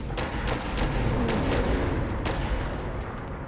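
A Glock 86 plasma pistol in Fallout 4 is fired at a Deathclaw, several quick punchy shots over a dense, rumbling battle backdrop, fairly loud and close.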